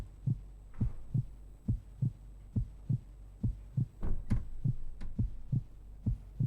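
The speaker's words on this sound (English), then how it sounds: "One of these, weirdly, if you click on it, it just makes a heartbeat sound." A steady heartbeat plays from a clicked book in the Goosebumps: Escape from Horrorland video game, soft paired thumps repeating evenly about every second and a half over a faint hum, with no talking.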